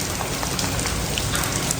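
Heavy rain pours steadily and loudly, a dense, unbroken hiss of drops with no voices heard.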